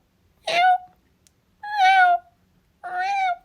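Three clear, separate cat meows, each roughly half a second long, spaced about a second apart, close and fairly loud with no talking.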